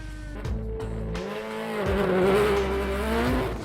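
A rally car engine revs hard and climbs through a gear as the car pulls away off the start line at a forest rally sprint, loud and close, with rising engine pitch.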